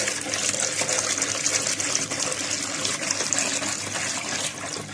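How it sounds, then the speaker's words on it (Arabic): A liter of water poured into a pot of koshari ingredients seasoned with salt, a steady close gushing and splashing that runs continuously for several seconds with no talking. "هحط عليها لتر من الميه"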